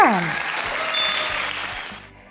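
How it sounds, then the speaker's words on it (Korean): Families applaud children at a church preschool summer Bible school service, a broad burst of clapping that swells and holds, with a voice heard briefly at the start before the applause thins and stops. "가족들이 예쁜 꽃을 피워낸 어린이를 향해 칭찬 박수를 해주세요"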